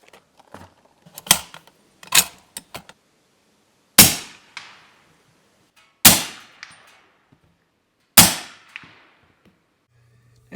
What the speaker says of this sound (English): I'm going to be shooting the Hornady Subsonic